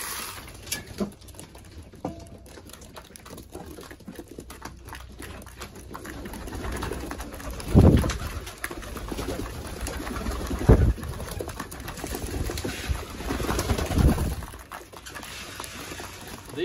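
Racing pigeons in a loft during feeding give low cooing and steady pattering and scratching of feet and grain, with a few louder thumps and flutters standing out from the busy close-up background.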